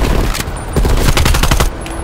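Rapid bursts of enemy gunfire in the Call of Duty Black Ops Cold War campaign, a dense fusillade of repeated shots at close range, loud and continuous over about two seconds with no talk.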